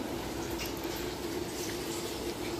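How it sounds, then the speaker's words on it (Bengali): Cabbage pakoras frying in oil make a dense, even hiss and bubbling sizzle that holds steady and close for a few seconds, with no talk. "তাহলে বাঁধাকপির পকোড়া এই তেলে ছাড়া হয়ে গেল"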